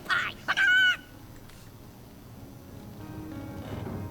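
A chicken in the video game Divinity: Original Sin gives two loud squawking clucks close up, followed by a quiet stretch of low ambient game noise.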